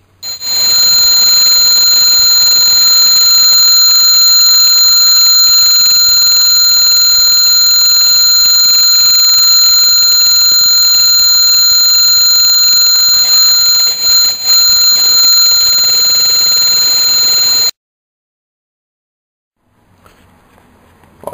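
Test tone at 4,137 Hz driving a steel plate sprinkled with couscous, a loud, piercing steady whine with faint overtones that holds for about eighteen seconds, then stops abruptly and leaves near silence.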